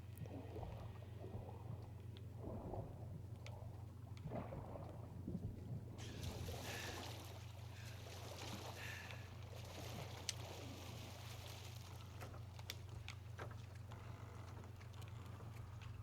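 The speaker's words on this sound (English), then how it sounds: "the patrol boat that just does not want to move from the location" A patrol boat idles in Call of Duty Modern Warfare 2, giving a steady, low engine drone that runs unbroken under soft wind and water noise, with no talking.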